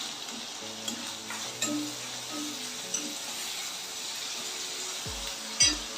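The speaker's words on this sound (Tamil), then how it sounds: "தக்காளி, வெங்காயம் எல்லாம் நல்லா வதங்கிக்கிட்டு இருக்கு." Tomatoes and onions sautéing in a pan for a spicy brinjal kara kuzhambu, with a steady soft sizzle and a few light utensil clinks and stirring scrapes, no voices.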